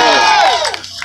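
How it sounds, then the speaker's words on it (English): A festival crowd at a pirate fair in Las Vegas lets out a loud, brief roar of yelling and screaming that quickly fades, with faint scattered claps at the end. "I want you all to yell and clap and scream."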